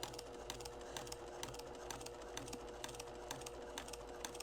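A sewing machine stitching in the ditch on a quilt block at a slow, steady pace, its needle ticking in an even rhythm of roughly four beats a second, quiet and close with a low motor hum underneath.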